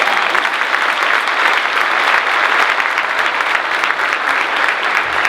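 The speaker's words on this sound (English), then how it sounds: "That does deserve a round of applause." Graduation audience applauding at an MBA commencement ceremony, steady dense clapping from a large crowd that holds at an even level throughout, with no voices standing out.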